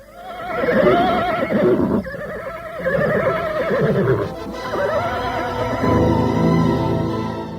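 Horses neighing repeatedly in an Indonesian radio drama, loud whinnies rising and falling one after another, with a steady clip-clop of hooves and a low rumble building toward the end, close and with no talk.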